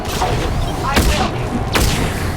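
Gunfire in Mass Effect 3 on Insanity difficulty: two sharp, loud shots about a second apart over a busy battle bed, with voices shouting in the background.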